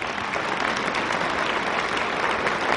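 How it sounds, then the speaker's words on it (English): An audience at a high school holiday choral concert claps steadily, a short even burst of dense applause with no voices over it. "another round of applause for Ethan on the trumpet."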